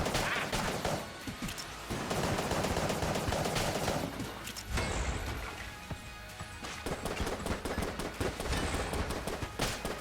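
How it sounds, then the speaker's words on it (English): Rapid gunfire from the Polaris and Rad Gun in the video game Enter the Gungeon, a dense, continuous barrage of shots with crashing impacts. It is loud throughout, with brief dips in intensity. "Killing things extremely quickly with the Polaris plus the Rad Gun."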